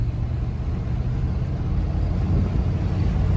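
Steady engine and road rumble from a 1995 truck cruising a country road, a constant low drone heard from inside the cab with no breaks.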